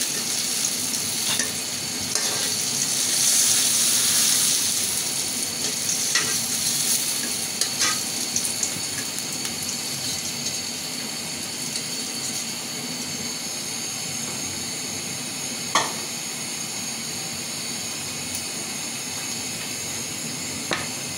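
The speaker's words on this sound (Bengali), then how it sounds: "আমার বেগুনটা লাল লাল করে একটু ভাজি করে নিছি।" Eggplant pieces frying in a pan for a jackfruit-seed and dried-fish curry give a steady, even sizzle throughout, with a few faint stirring clicks and no speech.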